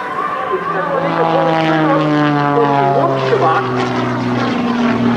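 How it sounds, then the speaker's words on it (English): A propeller aerobatic airplane performs at the NAS Pax River air show, its engine droning loudly and steadily with shifting pitch as it maneuvers, while a commentator talks over it. "he'll be hanging on that prop for just a moment, spinning uncontrollably"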